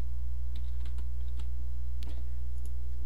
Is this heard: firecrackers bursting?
no